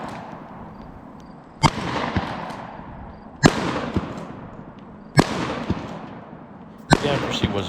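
Smith and Wesson 3000 12 gauge shotgun firing hand-loaded buckshot and birdshot at a range, four loud blasts spaced about two seconds apart, each followed by a ringing decay, with faint voices between shots.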